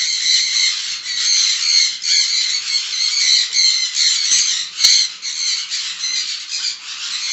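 Many birds at a bird farm squawk continuously in dense, overlapping, harsh calls, fairly loud and near, with no talk over them.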